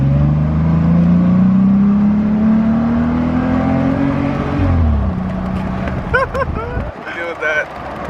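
A 2018 Jeep Wrangler JK with its doors off drives along, engine note rising steadily and loud up close, then easing off as road and wind noise take over near the end.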